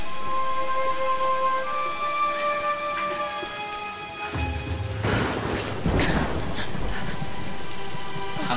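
Steady heavy rain pours through a rainy, cold night scene in the video game Tomb Raider, with a deep thunder rumble swelling midway and lingering beneath the downpour.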